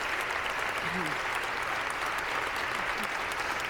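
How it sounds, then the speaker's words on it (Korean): Long standing ovation in the US House chamber, steady dense applause filling the hall at an even level throughout, with a faint murmur of voices beneath. "기립박수 오래 치고 있네요"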